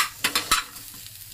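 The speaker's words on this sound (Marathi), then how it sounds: "आपल्याला खोबरं आणि कांदा भाजून घ्यायचा आहे." Onion and grated coconut roasting in a hot pan, three quick scraping stirs with a soft sizzle, then quiet faint crackle.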